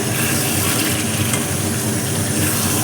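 Chicken fries in oil in a pan, producing a dense, even sizzling hiss with faint stirring movement, close and constant throughout.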